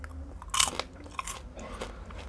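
Crunchy Chio rainbow popcorn with sugar pearls is bitten into close to the mic: one sharp crunch, then quieter chewing crackles at irregular moments, with no talking over it.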